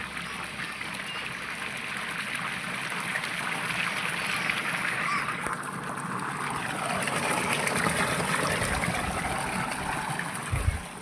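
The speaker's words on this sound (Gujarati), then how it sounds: "બીજા બોરો કરતી સામાન્ય પોણી ઓછું આવે છે સામાન્ય ને અડધી પાઇપ જ આવે છે" Steady rushing water pouring continuously from a borewell pipe, a broad hiss that holds even throughout, with faint background noise.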